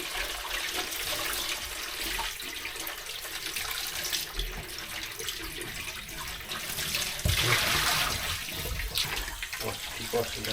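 Water runs steadily from a tap while a film developing tank is washed out, a continuous close splashing flow that surges louder near the end, with someone speaking intermittently over it.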